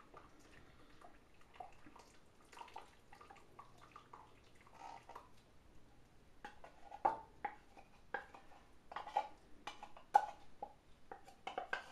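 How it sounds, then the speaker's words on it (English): Red beans being stirred in a pot with a spoon: faint, wet scraping and soft clinks that come in irregular strokes and grow a little busier toward the end. "I'm going to go ahead and stir these beans so it all incorporates real good."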